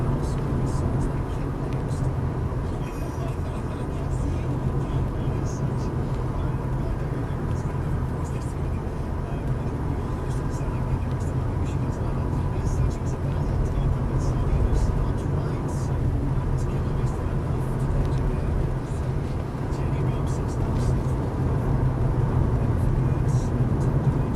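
A malachite green BMW 635CSi Highline automatic cruises along smoothly, a steady low engine and road rumble running continuously with no raucous revving.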